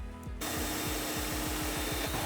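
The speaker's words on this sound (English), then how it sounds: "we need to drill a hole in the observatory and get these wires inside of the charge controller" Power drill boring a hole through the wall of an off-grid solar-powered observatory, a loud steady motor whine with rapid rhythmic grinding pulses, starting abruptly and running alone.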